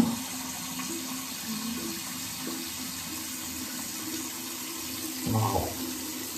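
A tap runs water in a steady, even hiss at moderate distance, with a brief louder splash near the end and no one talking.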